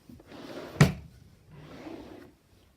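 A craft room drawer slid open with a sharp knock midway, set between two soft sliding rubs, close and isolated with no talking.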